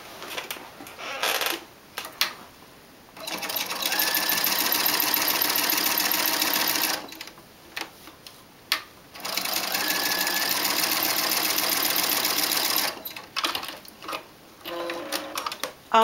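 A sewing machine stitches a fabric corner for a window seat cushion in several close, loud whirring bursts, each a few seconds long, separated by short pauses and clicks.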